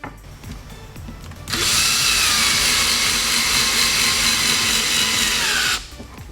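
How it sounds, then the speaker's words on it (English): A power drill drives pocket hole screws into a wooden tabletop during furniture assembly, one loud sustained whine of about four seconds that winds down at the end, close up after a quieter start with faint handling. "A few pocket hole screws and the top is assembled."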